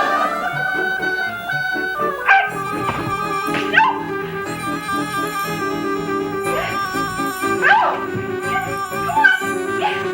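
A dog in a made-for-TV afternoon movie yips, whimpers and gives short barks over a sustained tonal musical backdrop, the whines rising in several distinct bursts.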